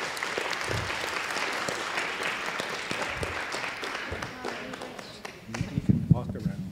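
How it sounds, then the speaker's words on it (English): Warm applause from a seated audience welcoming a keynote speaker, steady clapping that gradually thins out, followed near the end by footsteps and the rustle of someone moving. "Can we have a nice round of applause"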